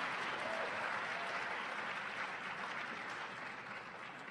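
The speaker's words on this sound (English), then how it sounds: "You can continue to clap." Steady audience applause fills a university lecture hall, a dense even wash of clapping from a large crowd that holds throughout and fades slightly at the end.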